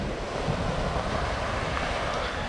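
Sea waves wash against the shore beside the abandoned resort town of Varosha in Cyprus, a steady close rush of surf mixed with wind buffeting the microphone, with no talking.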